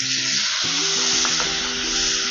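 Ground paste of ginger, garlic, cashew, raisin and chili goes into jackfruit frying in a pan, making a dull plop and then a strong, steady sizzle close by.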